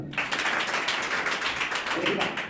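An English class claps together, a steady burst of dense hand clapping from a roomful of students lasting a couple of seconds.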